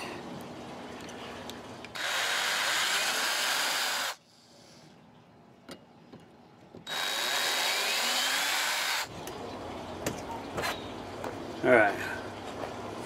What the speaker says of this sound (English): We're going to drill corresponding holes